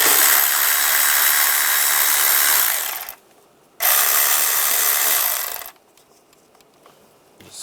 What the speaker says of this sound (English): Using a 10mm socket, we're going to loosen up the worm clamps.